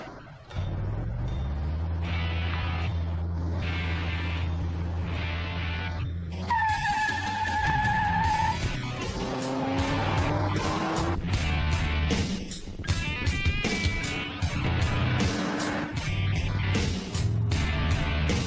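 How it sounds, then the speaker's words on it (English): A modified car is driven hard around a race track, its engine droning steadily before revving higher with shifting tones and brief tyre squeals, loud and close throughout with no talk. "let's get it out on the track and see what the Stig makes of it."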